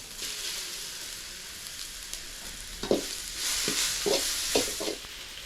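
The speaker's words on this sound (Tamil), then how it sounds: "இப்போ வந்து இஞ்சி பூண்டு பேஸ்ட்டு சேர்த்துக்கிறேன்" Ginger garlic paste sautéing with onions in a pan for egg curry, a steady frying sizzle broken by several sharp spatula scrapes and stirs, close and moderately loud with no voices.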